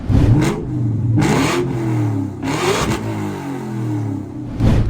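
A Ford Mustang Cobra's supercharged 4.6-liter V8 revs hard and drops back in repeated surges, a deep throaty roar rising and falling several times, loud and close.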